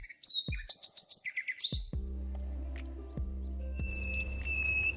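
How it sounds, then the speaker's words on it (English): Red-vented bulbul calling in Sri Lanka: a close burst of quick, bright chirps and tweets in the first two seconds, followed by thumps and a thin sustained tone, with no voices. "The red-vented bulbul is a member of bulbul family of passerines."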